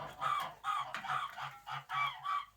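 An amorous gander honks in a rapid series of short, nasal calls, close by and loud, rising and falling in quick rhythmic bursts.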